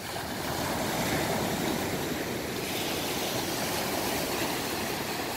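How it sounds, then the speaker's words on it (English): River rapids send a continuous, loud rush of churning water, a dense steady roar with no breaks and no talking over it. "Oh, got some rapids going on."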